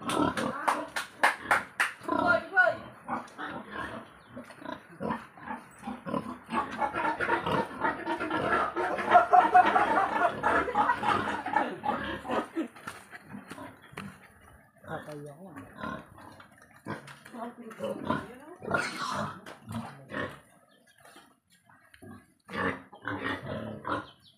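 Pigs grunt and snuffle on a farm in irregular bursts at moderate distance, some louder snorts mixed in, with people talking at times.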